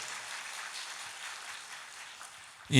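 An audience at a church talk applauds, a steady crowd of many hands clapping at moderate loudness for nearly three seconds, ending with a sudden louder thump.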